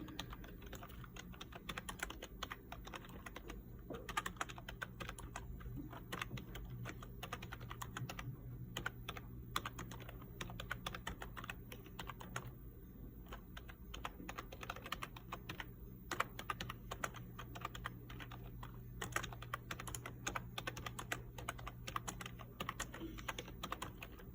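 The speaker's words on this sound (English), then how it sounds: "So I'm going to type that in." Steady typing on a computer keyboard, a continuous patter of soft key clicks at a quiet, even level over a low room hum, with no one speaking.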